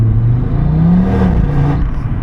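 An Audi RS3 five-cylinder in RS mode burbles and drones at sustained revs, its exhaust loud and close under steady cabin road noise.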